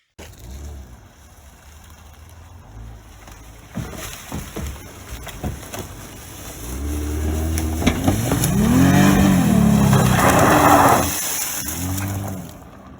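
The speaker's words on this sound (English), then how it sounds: "It sounds like a race car." An off-road vehicle's engine idles roughly, then revs up hard several times in loud rising and falling surges before settling back down.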